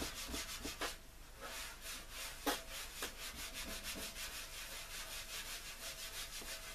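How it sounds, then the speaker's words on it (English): Quick scrubbing on the corner of an old PC case, a close, continuous rough rubbing with rapid back-and-forth strokes and a few sharper scrapes, fairly quiet. "I just give that corner there a quick scrub"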